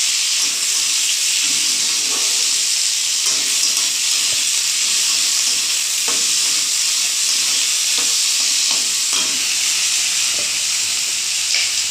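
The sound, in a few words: frying potatoes, onion and green chili in a pan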